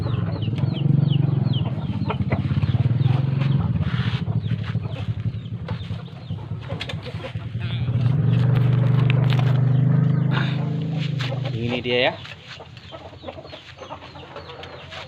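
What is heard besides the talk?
roosters in cages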